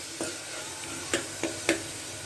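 Onion, tomatoes and green chilli sautéing in oil, a low sizzle broken by a few sharp utensil scrapes and taps.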